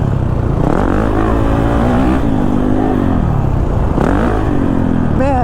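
Kawasaki KX450 dirt bike engine revs loud and close, pitch climbing and falling in two strong pulls over a rough continuous motor drone.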